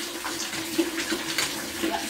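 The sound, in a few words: running water while washing clothes by hand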